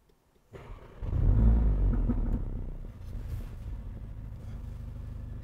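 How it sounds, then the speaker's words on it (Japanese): A 2015 Mercedes-AMG A45 4MATIC turbo four-cylinder cranks briefly, fires into a loud low roar that flares then settles into a steady, rumbling idle, heard close and alone. "それではエンジンを始動させていきます。"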